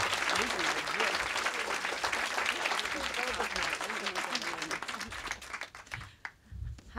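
Audience applause welcoming author Rebecca Traister to a book talk, a steady dense crowd clapping that carries on for several seconds, then thins out and fades near the end.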